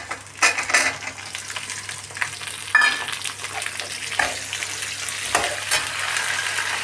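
Onions sizzle and fry in a hot pan, a steady crackling hiss with occasional stirring scrapes and soft clinks, heard close and alone.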